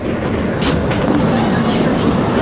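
NYC subway R160 F train rolling on rails, a loud, steady rumble and hiss heard from inside the car with no break.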